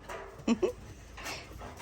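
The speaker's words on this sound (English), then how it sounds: "We still have puppies, which I can let them out. Watch them come out" Mixed breed puppies released from their pen on a small farm in Ghana, giving a few short close yips and whimpers amid soft scuffling, with a quiet voice faintly underneath.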